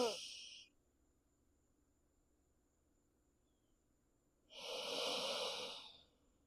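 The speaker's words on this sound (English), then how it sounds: "Exhale, emptying, releasing it all back out." Two forceful yogic exhales, one brief puff at the start and a longer, louder rush of breath near the end, close to the mic with near silence between.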